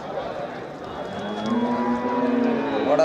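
A cow moos at a cattle market in Melapalayam in a long, drawn-out low call that rises at the end, with faint background noise and no other voices.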